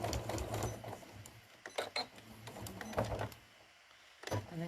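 Sewing machine stitching across a folded star trivet, a quiet steady mechanical hum with rhythmic needle clatter that pauses briefly near the end.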